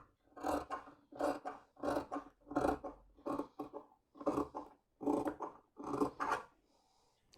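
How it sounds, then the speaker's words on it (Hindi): Scissors cut through blouse fabric in a steady series of about nine crisp rasping snips, close and clear, with no talking. "तो इसे मैं काट देता हूँ।"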